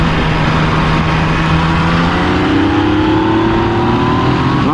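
A 2019 Yamaha Tracer 900 GT three-cylinder motorcycle pulls in third gear on a mountain road. The engine note is loud and close, and it climbs steadily in pitch as the rider accelerates, with wind noise underneath.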